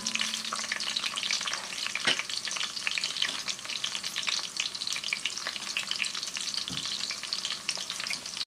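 Sliced onions frying in hot oil make a dense, continuous hiss that stays even throughout, with a couple of soft knocks from stirring and no voices.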